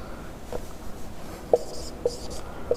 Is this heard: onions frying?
no